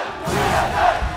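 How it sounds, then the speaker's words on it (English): A dense arena crowd at the 2014 NA LCS Summer Playoff Finals, game five of Cloud9 versus TSM, chanting and roaring as one continuous loud wall of voices. "Conflicting chants from the crowd here in Game 5"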